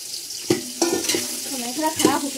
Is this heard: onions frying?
yes